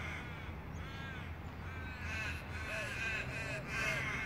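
Crows in a large flock caw repeatedly, several birds overlapping in harsh calls that grow louder toward the end, with a low background murmur.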